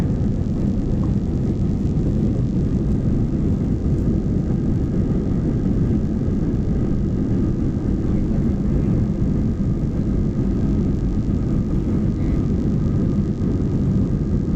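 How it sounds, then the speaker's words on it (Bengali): Inside a passenger airliner taking off at night from Dhaka, a loud, steady low engine roar and cabin rumble fills the scene without a break, with no voices over it. "আমাদের বিমানটা এখনই উড্ডয়ন করবে।"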